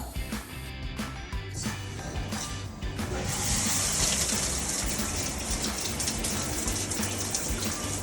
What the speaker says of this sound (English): Okay, so I'm going to turn the water on here,